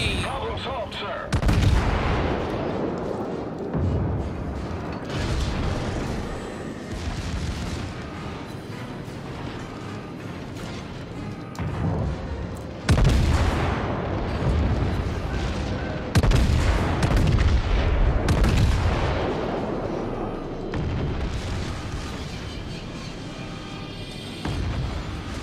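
Warship secondary guns fire in the naval video game World of Warships, heavy booming volleys and rapid rolling blasts recurring in bursts, loud and close, with voices talking between shots.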